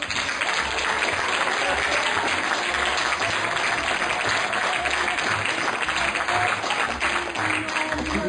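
Theatre audience applauding the lighting and sound booth technician at a year-end amateur company performance, a dense, steady wash of many hands clapping throughout, fairly loud and continuous.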